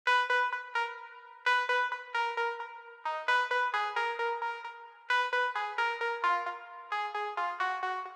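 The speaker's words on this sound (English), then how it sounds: "Fruity lead sounds like this." A Fruity lead synth in FL Studio plays a melody alone: crisp, plucky notes with quick attacks and short decays, grouped in rhythmic phrases separated by brief gaps, clean and close with no voices.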